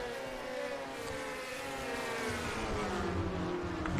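Stock cars roaring around an oval at Oswego in a racing video game, a steady loud engine drone with shifting whining pitches as cars pass close together, continuous and heard without talk.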